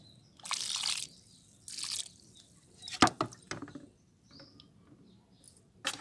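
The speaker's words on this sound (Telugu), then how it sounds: "ఇప్పుడు వరుసగా మొక్కలకైతే వాటర్ ఇచ్చేద్దాము." Jasmine plants in pots watered lightly, several short splashy bursts of pouring water about a second long, separated by quiet gaps with small drips and knocks.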